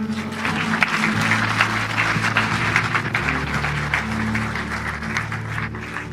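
A church congregation claps together in steady, sustained applause that fills the room, with organ or keyboard chords sounding underneath.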